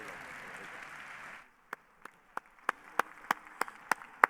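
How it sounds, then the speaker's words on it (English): A conference crowd at an NFT event murmurs and applauds, then the sound drops away to a few sharp, isolated hand claps spaced roughly a third of a second apart, close and distinct in the quiet. "David Schwartz gets a round of applause for two reasons: great content and under time."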